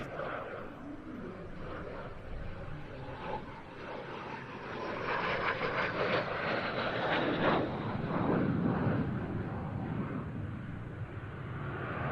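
A display jet flies a partial rolling circle at an air show, its engine a continuous rushing roar that swells and grows louder midway as it passes nearer, then eases slightly while staying strong.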